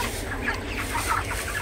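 Broiler chickens being raised for heavy weight cluck steadily and close by, a continuous flock murmur with overlapping calls and no talk.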